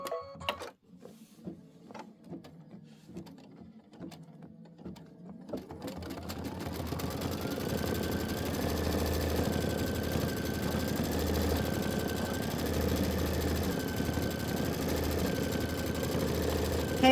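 An embroidery machine stitches a pinwheel onto a 22-inch Kimberbell pillow, starting with a few sparse clicks and thumps before settling into a steady, rapid mechanical stitching hum that runs on continuously.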